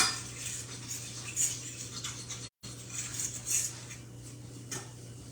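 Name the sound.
stirring roux for gravy in a pan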